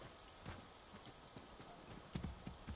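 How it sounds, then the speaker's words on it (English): Horse hooves clip-clop in a steady walking rhythm in Assassin's Creed III Remastered, moderately close, growing a little louder and heavier near the end over a busy game ambience. "There's our horse."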